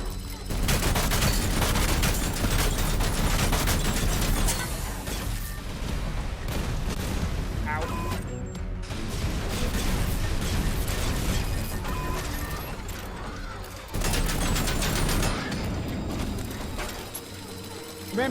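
A walking mech in the RoboCop: Unfinished Business video game firing automatic Cobra assault cannons, a dense and loud barrage of booming shots and mechanical clatter that runs almost without pause, with a voice talking over it.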